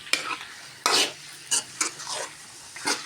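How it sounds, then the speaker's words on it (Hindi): Chicken pieces fry with onion and garlic for a murgi salan while a spoon stirs them in the pan, giving sharp scraping clacks over a steady close sizzle, with no voices. "अब मैं डाल दूँगी इसमें चिकन।"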